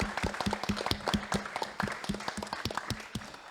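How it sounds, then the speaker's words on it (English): A small group claps in quick, irregular rhythm, the individual claps distinct and fairly close, moderate in loudness. "I'll give you these guys a major round of applause."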